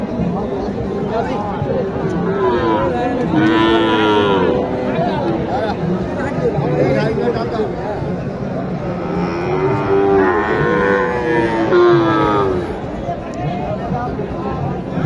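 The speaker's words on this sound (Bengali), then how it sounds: "এখানে দেখেন অনেকগুলো ক্রস গরু উঠেছে আজকে।" Crossbred cattle low repeatedly at a busy livestock market in Naogaon, their drawn-out moos rising twice over a steady crowd babble and nearby chatter.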